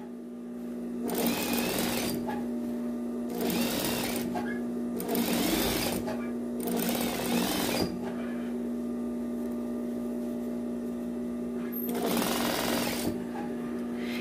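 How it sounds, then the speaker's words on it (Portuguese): A sewing machine runs a staystitch along the sleeve cap of a jacket while its lining is being replaced, in five separate close, steady bursts of rapid stitching with quiet pauses between them. "eu vou passar aqui uma costura aqui de contenção mesmo na cabeça da manga"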